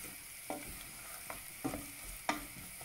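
Peppers sizzling in a hot pan for a spicy pasta bake, a soft steady fry punctuated by four brief stirring scrapes, fairly quiet and close, with no talking.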